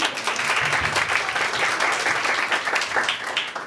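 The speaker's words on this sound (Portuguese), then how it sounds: "Aplausos." Audience applause during a Mary Kay skincare and makeup class, a short burst of steady clapping from a small group, fairly close and continuous.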